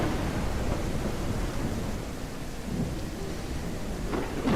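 Heavy rain pours steadily in the psychological horror video game Why Don't They Laugh?, a dense, unbroken roar with low thunder rumbling beneath it throughout, swelling slightly louder near the end.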